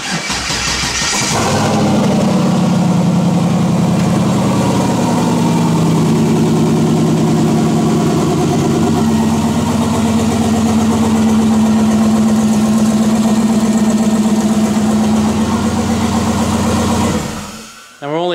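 A turbocharged car engine cranks and catches, then runs loud and close at a steady rumbling idle with slight rises in pitch for about fifteen seconds before shutting off abruptly.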